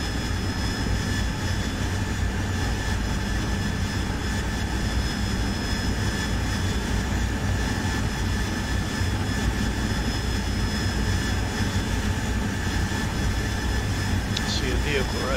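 An AV-8B Harrier jet engine in a DCS World flight simulation, a steady loud whining roar that drones continuously throughout with a constant hum.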